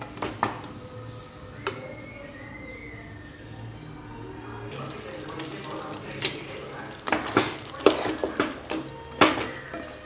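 Spoon scraping and clinking against a pot while buttermilk kulambu is stirred, soft bubbling underneath and a cluster of sharper metallic knocks toward the end, with someone speaking at times.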